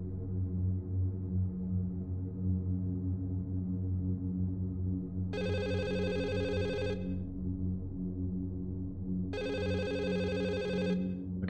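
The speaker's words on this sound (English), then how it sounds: "Okay, phone is ringing." Two bursts of an electronic telephone ring, each about a second and a half long with a pause between, sound over a steady loud background hum.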